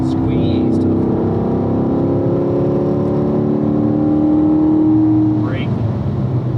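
A race car engine drones loud and steady at full throttle on a circuit during a driving-school lap, its pitch held high before easing off, while an instructor talks over it.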